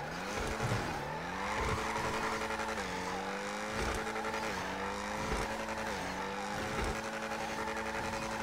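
A car engine revs in GTA 5, with a loud, continuous engine whine climbing and dropping in pitch through repeated gear-like steps, steady and close throughout with no pauses.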